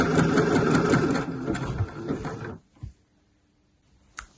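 A sewing machine runs close and loud while hemming a striped tee, a steady mechanical whir for about two and a half seconds that then stops, followed by a few soft handling knocks.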